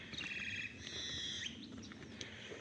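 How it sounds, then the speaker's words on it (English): Birds sing and chirp on a spring Easter morning outdoors, several high whistling calls and tweets at moderate distance over a quiet background, no talking. "Hear the birds talking to you"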